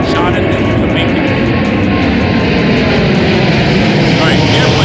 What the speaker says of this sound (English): airplane over my head